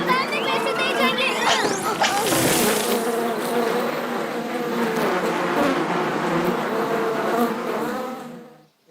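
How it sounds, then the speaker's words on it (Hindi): A cartoon bee buzzing loudly and close, its whine rising and wavering, with children's voices and chatter mixed underneath before it cuts off at the end. "मधुमक्खी, ये कहाँ से आ गई?"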